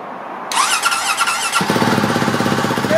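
A CCM GP 450 Adventure motorcycle starts up: a whirring starter squeal, then the single-cylinder engine catches and settles into a loud, steady, close idle.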